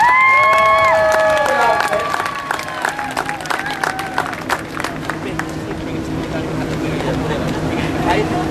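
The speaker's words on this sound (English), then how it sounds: "Let's give her a little bit of a strong clap." Outdoor crowd at a buskers festival in Saint John, New Brunswick, breaking into loud clapping and cheering that tapers into scattered claps and murmuring chatter, with voices talking throughout.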